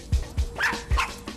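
A small sniffer dog barks several times in quick rhythm while searching a vehicle for illegal substances, close and fairly loud over a low background rumble.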